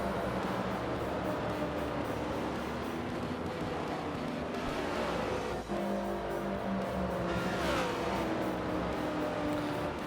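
Race cars at Indianapolis Motor Speedway in a racing video game, a steady droning engine hum with a car passing and engine pitch shifting near the end, no talk.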